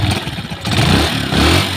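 Honda TMX Alpha 125 motorcycle engine running after a valve clearance adjustment, close and loud with a steady idle that rises into a brief rev, little valve ticking.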